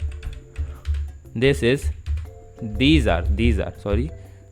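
Computer keyboard keys clatter as C program code is typed, rapid close clicks running beneath someone speaking in a clear voice throughout.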